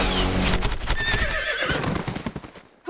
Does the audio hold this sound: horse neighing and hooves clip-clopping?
yes